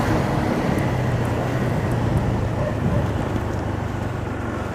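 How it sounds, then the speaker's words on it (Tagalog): Rain falls outdoors as a steady hiss, joined by a low constant rumble, continuous and fairly loud throughout with no speech. "Baka lumakas pa kasi yung ulan."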